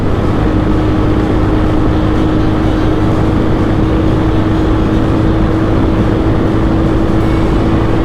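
A Royal Enfield 350cc motorcycle engine held in third gear runs as a loud, steady drone with a constant hum throughout and no pauses or speech.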